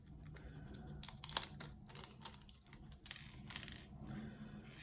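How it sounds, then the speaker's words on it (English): Loose small screws clatter onto a table in a few scattered bursts of light metallic clicks and rattles, close by with no talking, as parts are laid out for a Fanhome Robocop model kit build. "So we'll get these screws out on the table."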